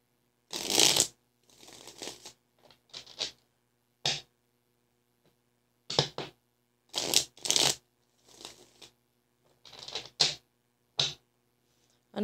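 Large cards are riffled and shuffled in irregular bursts of crisp flapping, with brief pauses between, close by and with no voices.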